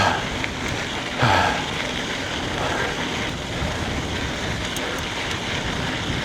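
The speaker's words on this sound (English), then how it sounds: "Oh, I'm running into the wind now." Strong wind buffets the microphone while riding an Ozark Trail Slalom FS.2 electric scooter into a headwind outdoors, a continuous loud rushing roar with occasional gusts.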